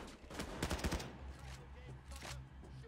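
A fast, loud burst of automatic gunfire in the video game Payday 2, with rapid shots clustered near the start and scattered firing after, under in-game noise.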